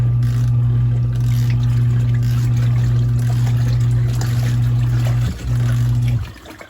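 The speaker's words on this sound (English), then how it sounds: "we're going to let it go ahead and rinse our clothes" Portable washing machine on its rinse cycle, a steady loud motor hum with water churning and trickling nearby for several seconds, cutting off briefly near the end.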